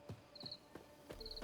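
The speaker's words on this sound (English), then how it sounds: "you can hear the crickets" Crickets chirp in short, repeated trilling bursts, faint and steady, set against a quiet in-game ambience from The Witcher 3: Wild Hunt, with soft thuds between the chirps and no talking.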